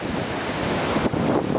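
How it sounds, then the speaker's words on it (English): Strong wind buffets the microphone while ocean waves surge and crash at the beach at Thompson's Bay, Ballito, a loud, dense roar with no talking. "It's quite windy."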